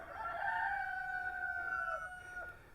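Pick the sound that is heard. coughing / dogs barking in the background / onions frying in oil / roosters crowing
roosters crowing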